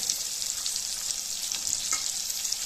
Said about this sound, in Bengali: আলুটা একটু পেঁয়াজের সাথে এইভাবে নাড়াচাড়া করে ভেজে নেব